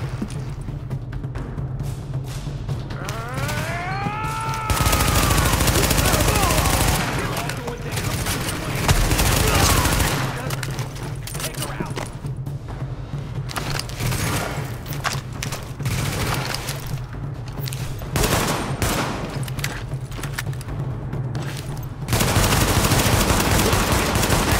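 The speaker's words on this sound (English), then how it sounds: "The escort party's taking heavy fire from the roof." Heavy sustained gunfire from a rooftop gunner in The Division, with loud bursts and volleys that continue through most of the stretch, a brief whistling tone early on, and muffled voices faintly under the shooting.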